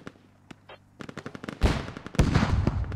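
Gunfire in the tactical shooter video game Squad, with scattered distant shots at first building into loud, dense bursts of automatic fire and nearby blasts, with no talk.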